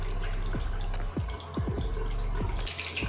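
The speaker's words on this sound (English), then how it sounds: "It's now time to wash with soap and water." Tap water runs steadily into a sink while someone washes with soap, with scattered drips and splashes over the continuous flow, close up and without speech.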